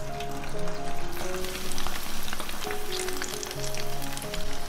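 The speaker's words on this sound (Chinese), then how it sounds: "油温六七成热的时候放进来炸，" Chilled Chaoshan guo meat cut into chunks deep-frying in hot oil over medium-low heat, a dense, continuous close bubbling sizzle with a faint steady tonal hum beneath.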